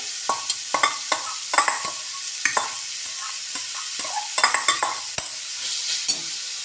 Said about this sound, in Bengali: এবার ঘি গরম করে তেজপাতা দিয়ে দেবো এবার দেবো এগুলো গাজর